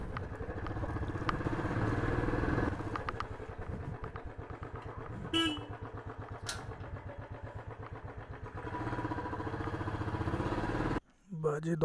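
A motorcycle runs nearby with a steady, throbbing mid-pitched engine note and a faint clatter. It idles and revs unevenly, and the engine briefly dips near the end.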